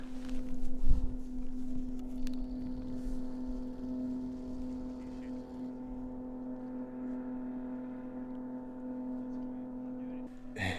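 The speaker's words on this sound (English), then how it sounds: "he's solo in a freaking blow-up raft with an outboard going down the Yukon." An outboard motor on an inflatable raft on the Yukon River drones throughout at an even pitch, with a brief splash-like bump near the start and faint background noise.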